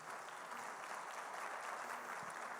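Faint, steady applause from a church congregation, a continuous wash of many hands clapping at a distance with no individual claps standing out.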